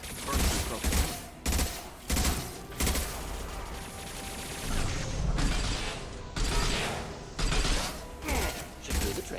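Assault rifle fire in Mass Effect 2 comes in repeated loud bursts, rapid volleys separated by short pauses, with mechanical clicks and clatter between them and no talk.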